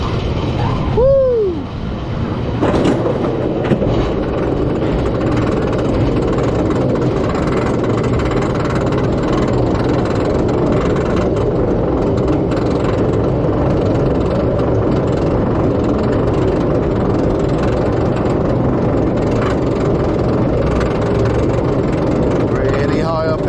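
A front-row ride on the Zator roller coaster at Energylandia gives a constant loud rumble of wheels and wind from start to finish, with a brief rider's shout near the beginning.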